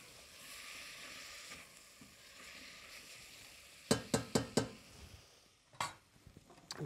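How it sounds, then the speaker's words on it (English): Wine hits a hot pan to deglaze it, the bottom scraped to lift the fond while a stew is built: a steady low sizzle hiss, then a run of sharp metallic scrapes and clanks near the end. "I'm gonna go ahead and deglaze with my wine. As always, when we deglaze, we wanna make sure we're scraping the bottom of the pan to really release that fond."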